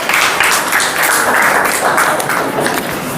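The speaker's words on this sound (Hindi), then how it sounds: "सही है, ताली बजा दीजिए।" A classroom audience at a quiz session on Uttarakhand general knowledge claps together in a loud, dense burst of applause that holds steady throughout.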